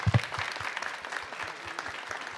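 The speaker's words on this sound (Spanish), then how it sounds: "les pido les demos un aplauso a los magistrados" Applause for magistrates at a formal Mexican electoral tribunal event, a moderate burst of clapping from a modest audience that starts sharper and settles into steady, thinning claps.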